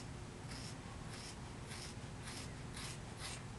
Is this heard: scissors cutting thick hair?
yes